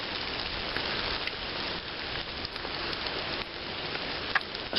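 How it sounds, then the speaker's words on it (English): Steady rain falls outside a primitive camp, a dense, continuous hiss with faint scattered drop ticks throughout, no voices. "the way that rain's coming down out there"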